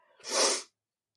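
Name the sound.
sneeze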